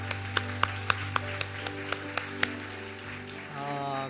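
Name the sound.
church congregation clapping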